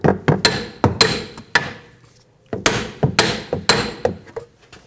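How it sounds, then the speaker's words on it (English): Sharp metallic hammer blows strike a punch against a control arm stud to knock it free of the knuckle on a 2000–2006 BMW X5, landing in two quick irregular bursts with a short pause between. "I'm just going to use a punch and just try to hit on the front of the stud and just separate it from the knuckle"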